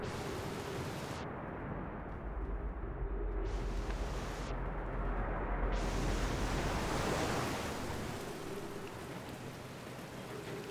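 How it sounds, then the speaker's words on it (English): Water waves in the Outer Wilds video game, a broad steady wash of surf-like noise with a low rumble beneath, swelling and easing gently over several seconds with no voices. "I've fallen into the water"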